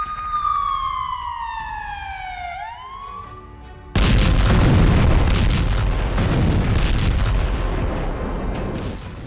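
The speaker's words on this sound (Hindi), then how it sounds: "दक्षिणी लेबनान में इजरायल की बम वर्षा हुई है।" Israeli bombardment in southern Lebanon: descending whistling tones fade out, then a sudden loud blast bursts in and gives way to a heavy, sustained rumbling roar.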